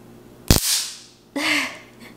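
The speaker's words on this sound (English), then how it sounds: "It's a stun gun, not a taser." A stun gun on a loud setting fires two separate bursts of sharp electric crackling, a short snapping burst followed by a longer buzzing crackle, close and loud with quiet between.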